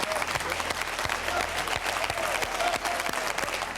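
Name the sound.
studio audience applause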